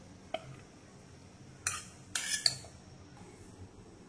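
Cluster bean curry being served from a pan onto a plate, with a few sharp, brief metal utensil clinks and scrapes standing out over quiet kitchen background.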